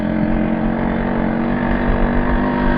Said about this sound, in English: it does sound a bit wobbly because I'm on the bumps